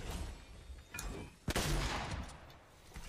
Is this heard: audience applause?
no